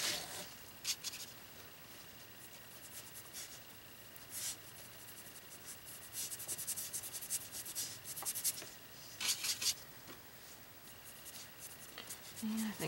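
A paintbrush lightly scrubs acrylic paint onto canvas, making soft, faint, intermittent scratchy rubbing strokes in short bursts against a quiet background.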